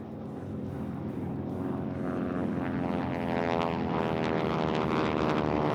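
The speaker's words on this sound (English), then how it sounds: "I love flying this airplane." A propeller airplane flies past, its droning engine a steady, harmonic hum that slowly grows louder and closer, alone without talk.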